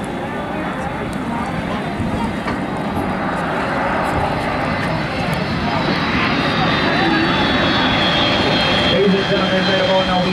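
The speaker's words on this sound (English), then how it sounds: "right about now we have Delta Airlines coming all the way from Atlanta, Georgia." Delta Airlines jet airliner from Atlanta approaching to land at Princess Juliana Airport, St Maarten, a loud steady jet engine roar that swells slowly and stays close throughout, with someone talking over it.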